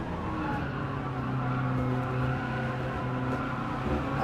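Car sliding a little too wide through a corner in Gran Turismo 7 on soft tyres during online lobby racing, a steady loud engine drone with a faint tyre scrub under it.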